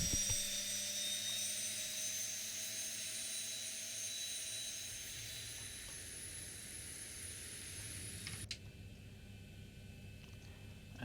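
A Boeing 737-800 jet engine spooling up in the ZiboMod flight simulator, a steady high whine with a low rumble underneath that holds evenly, then the tone drops sharply near the end.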